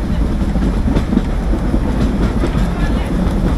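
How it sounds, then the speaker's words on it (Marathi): A heritage narrow-gauge train runs on the Bilimora-Waghai line, a steady loud rumble with rhythmic clickety-clack of wheels on rail throughout, heard from on board. "कसं आहे, गावची ट्रेन आहे"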